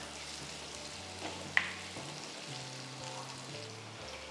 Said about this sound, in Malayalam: ഇതിട്ടിട്ട് നന്നായിട്ട് വഴറ്റുക. ഒരു 2 മിനിറ്റ് മാങ്ങ ഇട്ട ശേഷം 2 മിനിറ്റ് വഴറ്റുക.